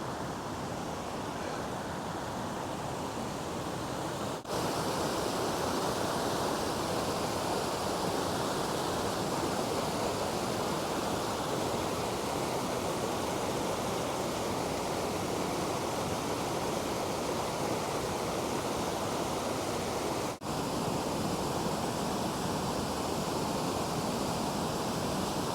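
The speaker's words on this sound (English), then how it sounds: "Ribbon Falls, which is one of the best hidden gem waterfalls in Rocky Mountain National Park" Ribbon Falls, a waterfall in Rocky Mountain National Park, pours in a steady, loud, broadband roar, close and unbroken from start to finish with no voices over it.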